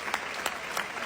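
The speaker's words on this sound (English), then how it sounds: "We're still clapping, huh?" A studio audience applauds steadily, a dense continuous clatter of many hands clapping at a constant, moderate level with no break.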